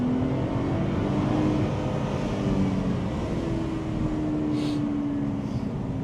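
Mercedes SLK 350 roadster engine humming steadily while driving, a continuous mid-pitched drone with a sustained tonal note rising slightly, heard from inside the car at constant moderate level with no talking.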